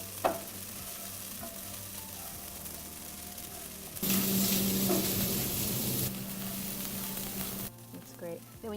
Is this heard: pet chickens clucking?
no